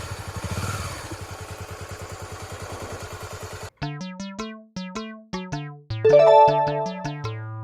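A motorcycle engine putters in rapid, steady pulses for about four seconds, close and fairly loud, then stops abruptly as bright synthesized musical notes take over.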